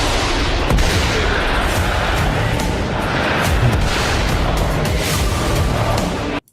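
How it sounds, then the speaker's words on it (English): Dense, continuous rumbling blasts and booms layered with loud music, sustained without pause until an abrupt cutoff. "But it was nice, the explosions with the music"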